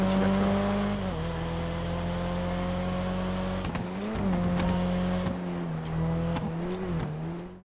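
A low-sounding four-cylinder car in GTA Online revs and accelerates through several gear changes, with engine drone dipping and rising and faint tire squeal, loud and close.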